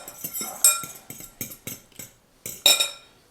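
A utensil mixes egg white powder into keto doughnut batter in a bowl, giving a close, fairly loud run of irregular scraping clinks and taps against the bowl, with no talking.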